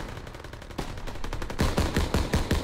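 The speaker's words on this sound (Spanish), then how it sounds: "¡Ametralladoras, abrid fuego!" Machine guns open fire in the Call of Duty WWII campaign, rapid bursts starting sparse and quickly building into heavy, loud, close automatic fire with no voices over it.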